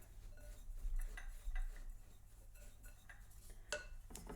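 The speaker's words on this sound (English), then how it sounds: "And then I'm going to give that a stir." A spoon scrapes and clinks softly against a dish while yogurt dessert with tiramisu-flavoured Baileys is stirred, faint and close, a few light taps among quiet mixing sounds.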